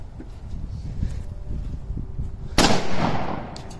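One loud, sharp gunshot from a Polymer 80 PF940V2 at a shooting range cracks close by near the end, following a stretch of low, muffled background noise.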